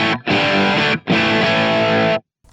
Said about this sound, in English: Then I have a rear rhythm guitar kind of distortion